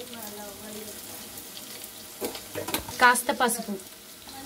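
Onions fry in a pan for Andhra-style pumpkin curry, a soft sizzle that swells into louder stirring and scraping toward the end, with a brief spoken remark over it.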